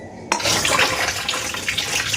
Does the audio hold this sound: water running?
yes